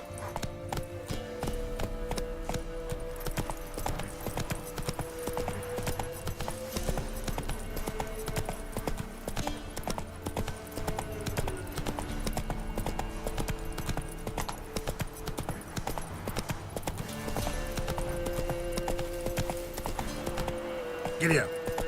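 Horse hooves clip-clopping steadily at a gallop in the Witcher 3 game, a continuous rhythmic beat under game music and ambience, with a rider's voice breaking in now and then.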